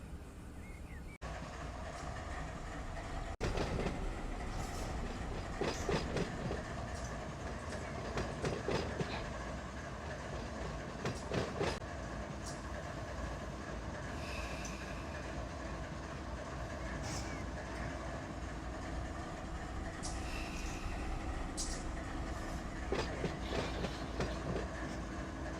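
Train cars roll steadily through the Colton hump yard in Run8 Train Simulator, with continuous rumbling and clickety-clack of wheels on rail joints, a faint wheel squeal and dense rail noise throughout, with no pauses.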